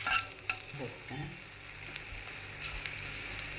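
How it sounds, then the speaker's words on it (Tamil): Green chillies sauté in hot oil, giving a continuous sizzle with clinks and scrapes of a stirring spoon against the pan, close and moderately loud, with no talking. "கொஞ்சம் நல்லா பச்சை மிளகா வதங்கிட்டேன்"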